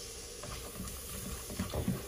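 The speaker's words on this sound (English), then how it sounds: "I'm just going to add some onions in it now." Onions and garlic fry together in a pan for a vegan mince sauce, giving a soft, steady sizzling hiss with a few faint clicks near the end.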